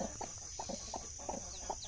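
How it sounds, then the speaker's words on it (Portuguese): A purebred black hen clucks in short repeated bursts, fairly close, over a steady background hiss, with no talking. "essa galinha aqui é de raça"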